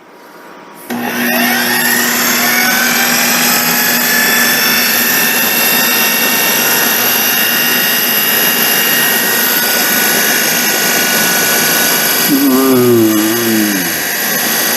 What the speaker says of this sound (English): let's get our veggies all blended. And we do want to puree these